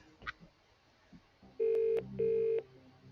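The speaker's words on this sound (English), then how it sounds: "you've chosen to phone a friend. Now let's call them up." Two long steady touch-tone beeps with one pause between them, dialing Phone a Friend in the Who Wants to Be a Millionaire? PlayStation game, loud and clear after a few soft bumps.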